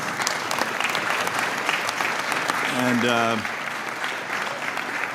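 Sustained applause fills a congressional committee hearing room, steady and dense throughout, with someone speaking briefly over it midway.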